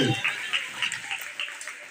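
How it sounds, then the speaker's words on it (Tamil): Applause from an audience at a school Independence Day celebration, a steady crowd of hands clapping with a roomy, slightly distant feel. "கைத்தட்டு"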